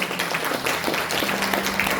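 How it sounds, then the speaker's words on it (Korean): An audience at a 100th anniversary celebration for Bae Sun-tae applauds to welcome association president Kim Jong-tae, a continuous dense wash of clapping filling the room. "큰 박수로 맞이해"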